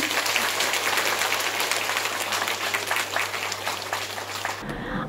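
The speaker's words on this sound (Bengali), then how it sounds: "সকলে একটু জোরে হাততালি দেবেন।" An audience at a Bengali health care event claps loudly and continuously, a dense wash of applause that cuts off abruptly near the end.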